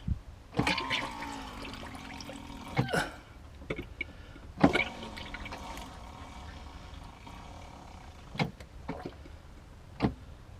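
A small pump in a Thetford C2 caravan cassette toilet whirs and water gurgles close by, starting and stopping in several short bursts, with sharp clicks between them.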